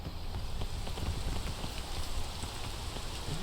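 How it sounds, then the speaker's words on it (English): Steady rain pours in a video game, a dense, even hiss of falling drops that stays continuous and fairly close throughout, with no voices over it. "Can you stop raining?"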